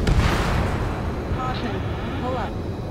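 In the Ace Combat 7 video game, heavy booming gunfire and rumbling blasts roll under game radio chatter, dense and loud at the start, then easing into a steady low roar.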